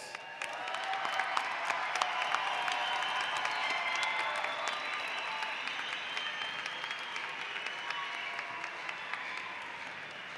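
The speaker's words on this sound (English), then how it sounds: "Big round of applause." Audience applause at a university fall undergraduate commencement ceremony, a large crowd clapping steadily in a big hall, sustained and even throughout, slightly distant, with no speech.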